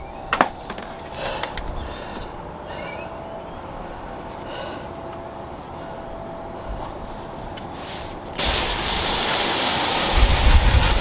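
Water sprays over a new tyre and a cleaning brush during a final rinse: a steady hiss of running water that turns into a louder, broader gush near the end.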